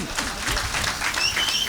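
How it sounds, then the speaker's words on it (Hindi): Brief burst of audience applause at an All India Mushaira poetry gathering in a hall, a short dense patch of clapping with crowd noise underneath. "तो तालियां बजे चाहे दोस्तों।"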